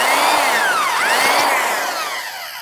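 A power drill whines loudly and steadily, its pitch dipping and rising as it bites into material, then trailing off slightly at the end.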